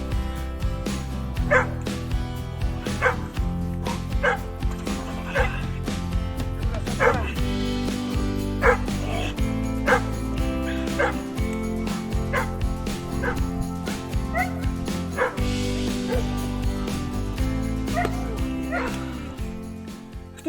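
Dogs bark and yip repeatedly with sharp, irregular calls over a steady background, continuing throughout at moderate loudness.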